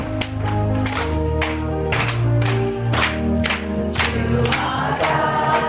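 A church congregation claps hands in a steady beat while singing a hymn together, sharp rhythmic claps about twice per second over sustained group singing and accompaniment.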